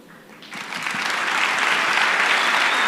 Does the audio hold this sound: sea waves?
no